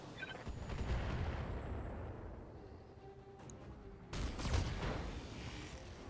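Mech weapons firing in the BattleTech video game, a rumbling barrage of heavy blasts and impacts that swells, eases off, then surges again in a second loud burst.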